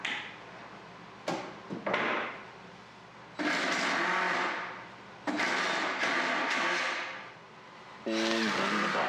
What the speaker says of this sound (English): I was able to hold the pieces together while driving my pocket screws